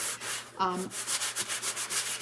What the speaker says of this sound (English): So I'm just gonna sand it.